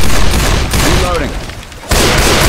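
Gunfire from the video game Left 4 Dead 2, loud dense bursts of shots and booms filling most of the clip with a brief lull before a sharp resumption, layered with game noise.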